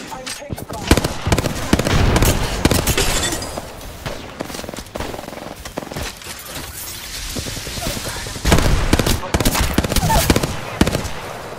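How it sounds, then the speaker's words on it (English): Gunfire in the game Apex Legends: rapid automatic bursts and scattered shots, loud and dense, with voices talking over the shooting. "I'm taking fire"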